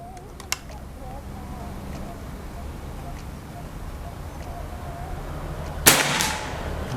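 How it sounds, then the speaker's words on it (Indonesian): One sharp PCP air rifle shot cracks out near the end, after a faint click earlier, over a quiet, steady background hum. "untuk tembakan yang keempat"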